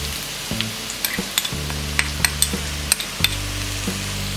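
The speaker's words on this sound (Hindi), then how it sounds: "मिक्स कर देते हैं और इसे मीडियम फ्लेम में फ्राई करेंगे" Pointed gourd (parwal) slices fry on a medium flame with a soft, even sizzle, punctuated by a series of light clicks and taps from stirring, under a low background tone.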